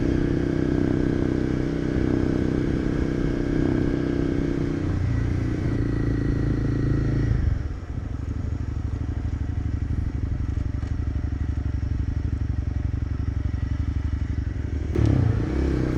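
A Kawasaki Z125 Pro small motorcycle engine idles and runs steadily, a close droning rumble that shifts pitch partway through, with some clatter near the end.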